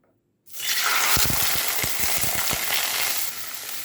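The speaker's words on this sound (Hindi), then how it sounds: "यहाँ पर मैंने पानी डाल दिया है। जैसे ही घी गर्म हुआ, पानी बॉईल हो चुका है।" Water splashes into hot ghee in a pan while making a milk and flour halwa, bursting into a loud, sustained sizzle and crackle with a few heavier bubbling pops, close and alone.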